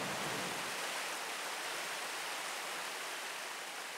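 Waterfall and stream in a Missouri state park, with natural water slides, rushing in a loud, steady broadband wash of falling water, close and continuous with no voices.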